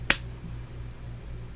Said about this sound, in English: Can we do like a clap?